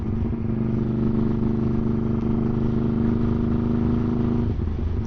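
A Ducati 1199 Superquattro engine swapped into a Honda Grom motorcycle holds a steady, loud, rough drone with a constant throb, then drops off sharply near the end.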